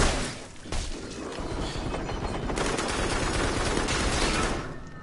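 Dense, continuous video-game gunfire from blind firing in the co-op VR shooter Farpoint, rapid overlapping shots and booms filling the whole stretch loud and close, with no talk over it.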